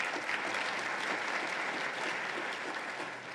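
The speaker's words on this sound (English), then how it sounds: "So round of applause for having him here as well" A conference room full of people claps steadily for about three seconds, a dense, even wash of applause that eases slightly at the end.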